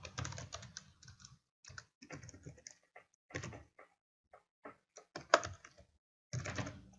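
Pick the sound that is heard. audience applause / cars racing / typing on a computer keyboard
typing on a computer keyboard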